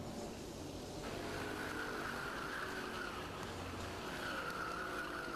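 Race karts run down the start-finish straight at a kart circuit, a continuous high engine drone rising and falling as the pack passes, steady and fairly distant, with no talk.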